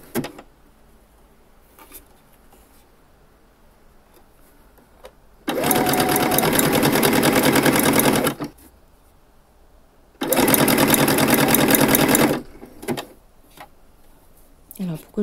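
A sewing machine runs a seam on a garment in two separate bursts of fast, even mechanical whirring a few seconds apart, with near-silent gaps holding faint handling clicks between them.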